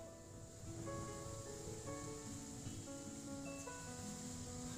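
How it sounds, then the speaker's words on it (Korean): Strong wind ahead of a typhoon shakes the trees in a continuous, faint rushing roar. Faint steady tones run beneath the wind. "태풍이 온다고 바람이 세차게 불고 있어요."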